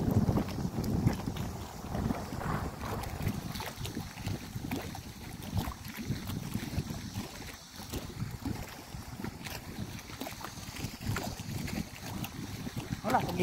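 Strong wind buffets a small fishing boat at sea, gusting in rough, uneven rushes against the microphone over the water's wash, with a voice speaking now and then.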